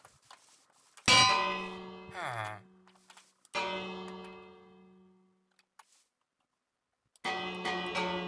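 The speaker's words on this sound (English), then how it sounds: "what happens if I ring the bell?" Minecraft village bell struck three times, each strike a bright ringing clang that decays slowly with a lingering tone, separated by gaps, fairly close and clear.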